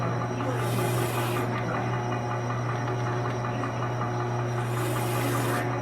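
Steady scraping and rasping from a knife shaving and trimming a wet tanned deer cape, a continuous close rub with two brighter hissy strokes near the start and end, over a low constant hum.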